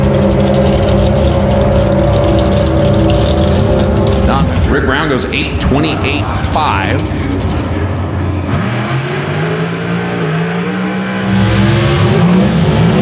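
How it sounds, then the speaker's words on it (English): A competition eliminator drag racing truck at the NHRA Las Vegas Nationals launches wheels-up with a loud, harmonic engine roar, then fades as it runs down the strip while an announcer calls a time over it. "Another wheels up launch out of the truck."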